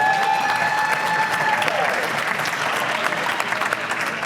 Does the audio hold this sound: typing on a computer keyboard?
no